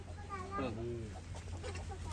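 A native country hen with her chicks makes short clucks and soft, rising chirps close by, over a low steady hum, with a voice briefly underneath.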